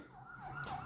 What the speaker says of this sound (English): the sounds of sirens are mixed with another sounds